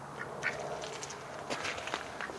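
A good-sized male duck floating on the water gives a few scattered quacks at close range over a soft background hiss, with no one speaking.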